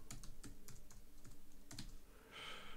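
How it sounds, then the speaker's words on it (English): Rapid, irregular keystrokes on a computer keyboard as lyrics are typed into music notation software, close and clear, with a brief burst of hiss near the end and no voices. "And now I'm going to type"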